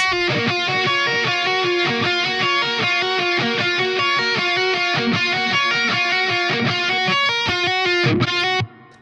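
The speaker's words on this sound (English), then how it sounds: "The little chorus lead sound like this." A distorted electric guitar plays a fast, steady metalcore lead line with a shimmering, slightly swirling chorus tone, loud and continuous before cutting off at the end.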